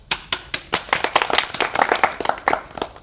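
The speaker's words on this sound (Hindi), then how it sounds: "जोरदार तालियों के बीच में स्वागत है" A small studio audience claps to welcome a guest on a talk show, a quick, uneven patter of individual hand claps close to the microphone.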